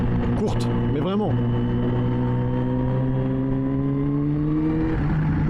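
A Kawasaki Z H2 motorcycle engine drones loudly and close while riding, its pitch climbing gradually as it accelerates, over constant wind rush.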